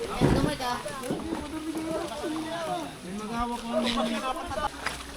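A small boat moving on floodwater, boarded from a ship for a crossing in the Bisaya region, with steady engine and water noise beneath people talking throughout.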